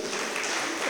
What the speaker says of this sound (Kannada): ಅವರಿಗೆ ಜೋರಾದ ಚಪ್ಪಾಳೆ ಬರಲಿ